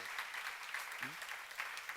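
A church congregation at a pastors' seminar claps along during a Psalms sermon, quiet rhythmic clapping under a brief vocal sound, fairly faint and steady.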